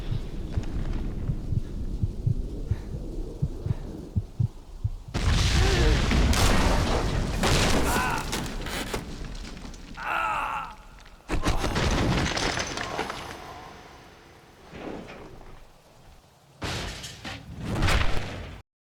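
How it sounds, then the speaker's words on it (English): Explosions and shattering glass in the Max Payne 2 video game: loud booming blasts, crashing breakage and sustained debris clatter, with bursts of gunfire-like impacts and a sudden cut near the end. "the cleaners accidentally begin a series of explosions, leading Max to dive out another window"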